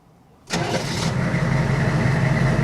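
A HMMWV (Humvee) engine cranks and catches on the first try, then settles into a steady, loud idle rumble, close by with no talk.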